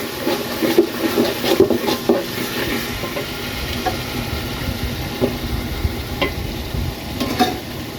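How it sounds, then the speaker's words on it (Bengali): Goat liver cooked with meat masala powder and garam masala paste sizzles in a pan, with repeated scraping stirring strokes over a constant frying hiss, close and fairly loud. "গরম মশলার গুঁড়ার যে পেস্ট সেটা দিয়ে দিতেছি এটারে কিছুক্ষণ ভুনবো"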